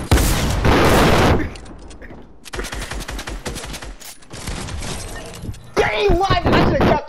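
Gunfire in the Fortnite video game: loud, sharp blasts and bursts of shots in separate clusters, with a voice shouting near the end.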